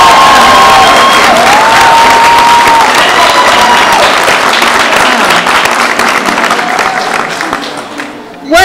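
A large crowd at a Massachusetts maternal health bill signing applauds and cheers loudly, dense clapping and whoops filling the room before fading out, with a voice briefly over the noise.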